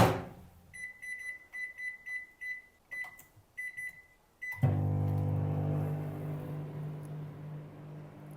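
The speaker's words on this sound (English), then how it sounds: "I'm just going to use my microwave on really low heat" Microwave oven on low power melting coconut oil and shea butter: a run of repeated electronic beeps from button presses, then a clunk as it starts and a steady low hum close by, with no talking.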